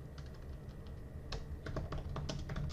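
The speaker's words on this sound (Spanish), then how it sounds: "Arroba y escojo el contribuidor, voy a escribirle a Rafael, eh, favor revisar" A computer keyboard being typed on nearby gives quiet, irregular clicks, sparse at first and then in quicker bursts over the last half.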